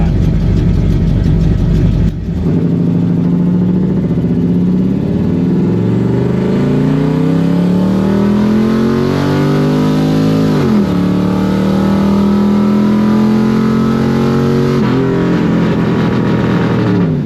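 A Jeep Cherokee Chief with a GT45 turbo revs loudly at a dragstrip launch against the brakes, holding a high roar, dipping and climbing again in pitch, sustained and close throughout.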